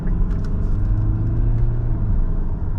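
A 2022 Kia Sorento engine roars under hard acceleration, a loud steady low rumble heard from inside the cabin, swelling slightly before easing near the end, with no talking.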